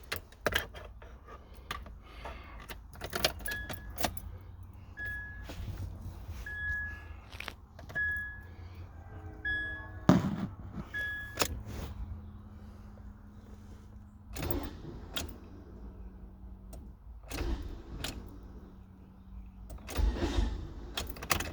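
A 2000 Nissan Altima with a bad starter being cranked, a string of sharp clicks and short, strained whirring bursts, separated by pauses, close and fairly quiet.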